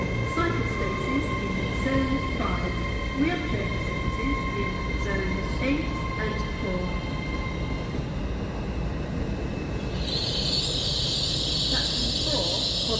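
A train rumbles steadily at Doncaster station, a continuous loud rolling roar with faint clanks, while a platform announcement voice talks over it and a bright hiss rises near the end.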